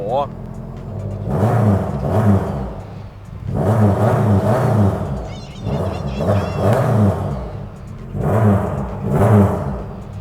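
An S200 turbo car engine idles after a cold start and is blipped several times, each rev a throaty surge followed by a fall back to a rumbling idle, loud and close, with someone talking between and over the revs.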